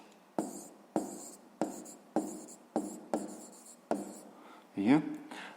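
A pen scratches out answers for a sixth-grade math exercise, about eight short, evenly spaced writing strokes, close and distinct, ending in a quick scribble.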